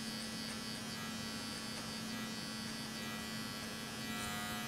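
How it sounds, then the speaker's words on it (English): An adjustable electric hair clipper, opened all the way up, trimming a beard, giving a steady close buzzing hum that runs unbroken throughout. "This is regular adjustable clipper, and then open all the way up."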